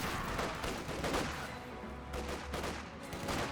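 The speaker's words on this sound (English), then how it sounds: "Another rifle grenade firing." Rifle grenades firing in a Company of Heroes 2 battle, a dense run of gunfire-like bursts and thuds over steady combat noise, with several sharp blasts spread through the stretch.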